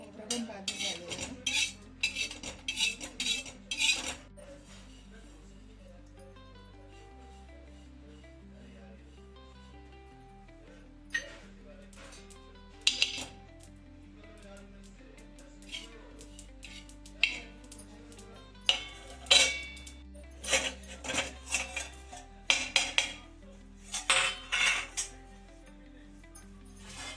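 Roasted coconut scraped out of a pan for a mixed red chutney, heard as scattered metallic clinks and scrapes of a utensil against the pan, loud bursts between quieter gaps, with a quiet background tone.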